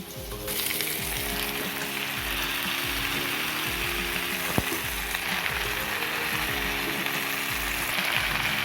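Washed gongura leaves hit hot oil in a pan, giving a steady, close sizzle of frying with occasional clinks and stirring scrapes, continuous and moderately loud.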